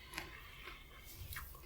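Faint, close crunching bites and chewing of fresh, crunchy green Romano beans, a few soft crisp snaps over quiet room tone with no talking.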